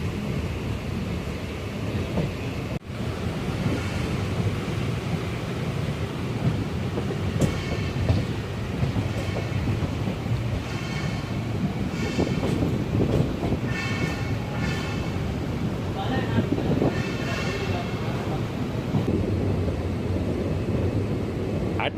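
A Chennai MRTS elevated train rolls along its viaduct toward St. Thomas Mount, a steady loud rumble with wheel clatter and rail squeal throughout, and one sharp knock near the start.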